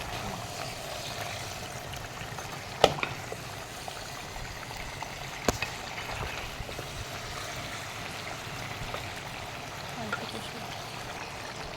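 Chicken sautéing in oil in a clay pot gives a steady, close hiss and sizzle. It runs without a break, with a couple of sharp knocks from stirring.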